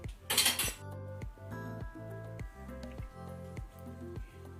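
Vegetables and water are stirred in a cooking pot for a Mangalore cucumber curry with jackfruit seeds, giving a quick opening clink followed by a series of soft, regular squelching strokes close by.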